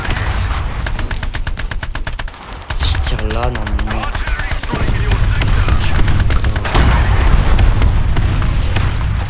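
Repeated rapid gunfire from War Thunder Mobile tank combat, loud and continuous with dense bursts and occasional heavier thumps, mixed with game noise while someone speaks in French.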